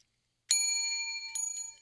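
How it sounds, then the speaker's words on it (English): Small bell struck right next to the microphone, a bright ringing chime that sustains and is followed by a couple of lighter taps, heard in silence. "Had to make sure the bell's closer to the mic then."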